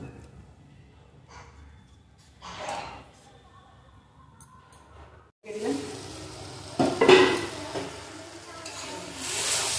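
Leafy greens stir-fried in a pan for a Bengali lunch, with a soft hiss and scraping that start after a quieter stretch, then grow into steady, close frying with stirring bursts.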